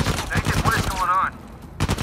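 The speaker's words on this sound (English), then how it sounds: "I'm being shot at." Uncharted 4 gunfire: a loud rapid rattle of shots runs through most of the clip, rising again in a final burst, with a voice briefly audible in the mix.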